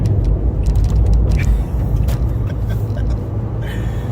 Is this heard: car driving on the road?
yes